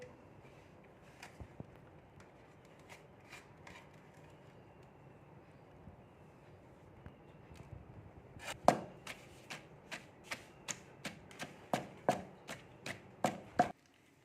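Masala spices for stuffed bitter gourd are pounded, starting quiet, then about a dozen sharp, evenly spaced thuds that grow louder toward the end, close by with no talking.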